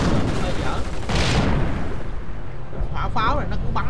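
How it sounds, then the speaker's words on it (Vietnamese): Artillery shells firing and exploding in the World War II strategy game Company of Heroes, dense rumbling booms that roll continuously and loudly, with a voice speaking over the battle toward the end. "Hỏa pháo này nó cứ bắn xuống nè"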